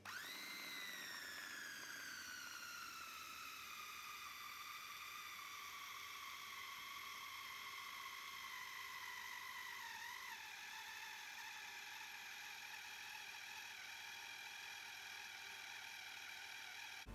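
A Mito electric food chopper grinding chicken meat, a steady high motor whine that starts by spinning up, then holds for a long stretch, drops in pitch a little as the load changes and wobbles briefly partway through.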